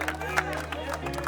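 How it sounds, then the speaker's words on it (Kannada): A village crowd claps loudly for a winner at a lucky-draw prize event in Lingadahalli, with a steady patter of applause while a voice speaks over it. "ಜೋರಾದ ಚಪ್ಪಾಳೆ"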